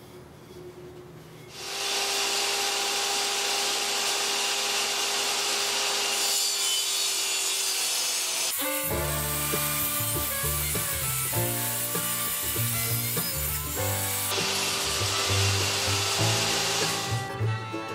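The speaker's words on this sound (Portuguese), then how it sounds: "vamos para a serra de bancada, vamos fazer o corte agora da parte de cima" A table saw cuts the top section of a wooden board for a sushi tray. The motor spins up loudly, then a harsh sawing whine continues as the blade passes through the wood, close and without speech.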